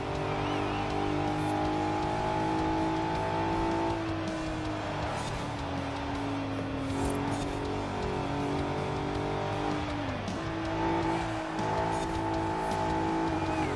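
Car engine and tyres racing in Forza Horizon 4 through snow, driven with a Thrustmaster steering wheel, a sustained droning engine note that rises and dips with gear changes, with tyre squeal and skidding, continuous and fairly loud.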